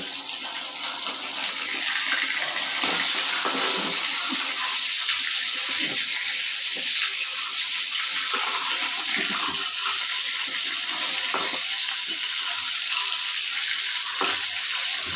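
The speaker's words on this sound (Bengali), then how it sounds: "এই পিঠে ভালো করে ভাজা হোক, তারপরে দেখাচ্ছি।" Fish frying in hot oil in a pan gives a loud, continuous, dense sizzle that holds steady throughout, with a few faint clicks and no talking.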